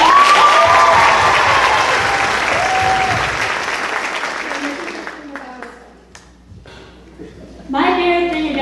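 A crowd at a live school show applauds loudly for Sam Byers, a Best Buddies representative. The clapping fades to near quiet over several seconds before voices come up at the end.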